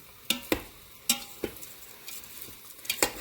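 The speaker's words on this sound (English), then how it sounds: "we are going to deglaze our pan with our white wine" White wine sizzling in a hot Instant Pot as it is stirred to deglaze browned bits for mushroom risotto, with sharp scraping clatters of a utensil against the pot recurring over a soft sizzle, close and fairly quiet.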